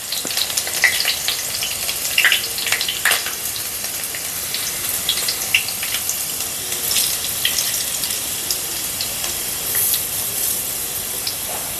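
Chopped green chilies and spring onions fry in hot oil for a lemon pickle, a continuous crackling sizzle with scattered sharp pops, close and steady, with no talking.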